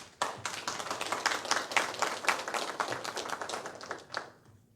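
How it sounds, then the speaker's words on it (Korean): A crowd at a Hwaseong citizens' regional meeting gives hearty, dense applause that carries on for about four seconds before quickly fading away. "우리 시장님을 위해서 열심히 다해달라고 큰 박수 치면서 시작합시다"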